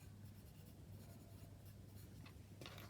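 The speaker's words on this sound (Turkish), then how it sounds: "Bakın şöyle yazıyorum buraya." A pen scratches across paper in a continuous soft rasp, close and fairly quiet, with a couple of brighter strokes near the end, noting stitch counts while knitting a lace collar.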